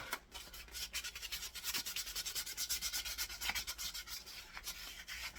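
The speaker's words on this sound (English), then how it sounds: "Get some sandpaper on it." Sandpaper rubbed back and forth along a wooden axe handle in quick, even strokes, a soft rhythmic scratching heard close and quiet with no talking.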